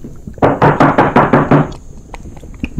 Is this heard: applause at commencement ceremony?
no